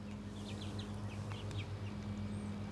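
Chickens making soft, scattered high chirps and clucks, quiet and somewhat distant over a steady low electrical hum.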